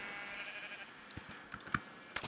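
Sheep penned on a Minecraft farm give a couple of short, quiet bleats. Soft mouse and keyboard clicks sound alongside them, and no one speaks.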